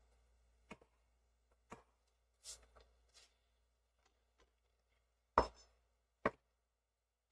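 Knife chopping a mushroom into small bits on a board for a stir fry, with sparse, sharp individual cuts spaced irregularly, quiet and close.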